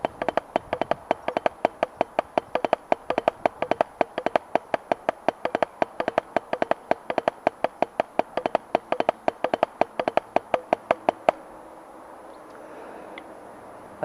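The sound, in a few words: drum kit single-stroke figures played up into beat 4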